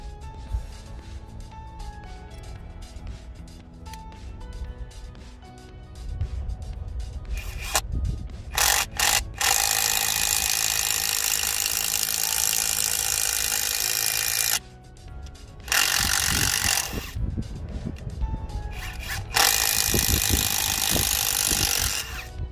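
A Parkside Performance 20V cordless impact driver fitted with a drill bit whirs and grinds loudly in several long bursts, separated by brief pauses and quieter handling noises, close by.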